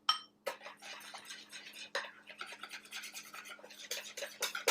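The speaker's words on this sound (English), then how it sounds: "I think I need a wire whisk just to break up that yogurt just a little bit" A wire whisk beats vanilla, almond extract and yogurt in a bowl, making rapid, irregular scraping and clinking strokes against the sides in quick close bursts, with no talk.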